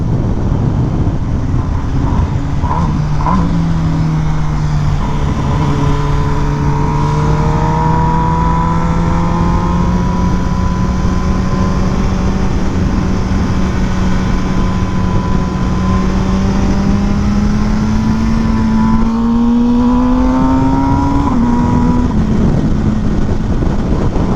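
An MV Agusta motorcycle engine accelerates steadily, its pitch climbing gradually over a long run of throttle, loud and close with continuous road and wind noise and no talking.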